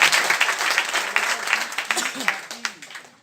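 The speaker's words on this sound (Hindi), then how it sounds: "एक बार उस व्यक्ति के लिए जोरदार तालियां बजा दीजिए।" An audience at a Hindi talk breaks into loud, dense applause, a quick patter of many hands clapping close by that slowly thins toward the end.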